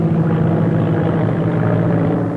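Propeller airplane engine droning steadily in flight, a loud, continuous low hum with no breaks and no voices over it.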